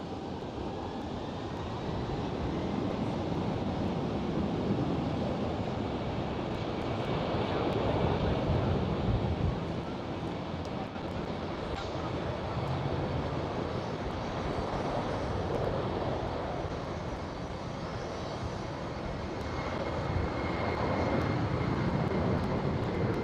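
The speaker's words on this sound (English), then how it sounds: "there she goes, our Queen of the Skies, Air China Cargo 747" An Air China Cargo Boeing 747 takes off at Amsterdam Schiphol, a loud, steady broadband jet roar that stays constant for the whole stretch and swells slightly a couple of times, with no talk over it.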